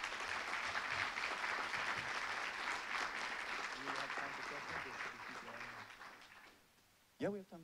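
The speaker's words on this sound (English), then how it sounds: "let's give it one more round of applause" Sustained audience applause fills a symposium hall after a keynote on climate despair, dense and steady before tapering off, with a voice briefly speaking at the end.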